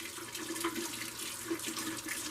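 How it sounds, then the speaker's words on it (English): Warm tap water runs steadily into a mug, a continuous soft splashing stream at moderate distance with no talking. "Okay, I'm going to put some water in a mug."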